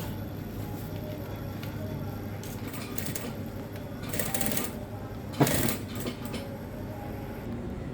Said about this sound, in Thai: เมื่อเย็บเสร็จแล้วเราก็ไปโพ้งให้เรียบร้อยนะคะโพ้งเก็บงานให้เรียบร้อยทั้งสองข้าง